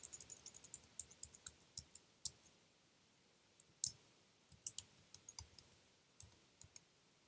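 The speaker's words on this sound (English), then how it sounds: "this keyboard is terrible. I cannot type." Typing on a computer keyboard, a quiet run of sharp individual key clicks in uneven bursts, some louder taps standing out, close and alone without talk.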